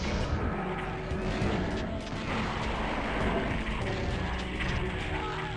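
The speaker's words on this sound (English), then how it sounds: "now it's a chain gunner." A Doom 2 chaingunner firing, heard as a dense, continuous barrage of rapid gunfire and booms that stays loud throughout, with other game noise mixed in.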